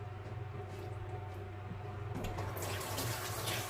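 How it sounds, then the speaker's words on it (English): Running water from a tap splashes steadily as hands are rinsed in a sink, close and moderately loud, the flow growing brighter and fuller in the last second or so, with no speech. "Just rinse my hands."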